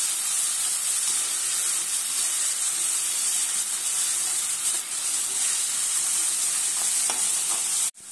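Curry leaves and spices sauté in hot oil in a pan for bharli vangi, a loud, steady sizzling hiss with stirring that runs almost unbroken until a brief cutoff at the end.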